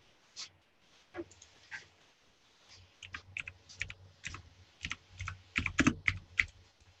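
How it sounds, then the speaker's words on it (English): Rapid clattering keystrokes on a loud computer keyboard during a live stream, irregular bursts of clicks growing busier toward the end, with faint low hum underneath. "Excuse my loud keyboard."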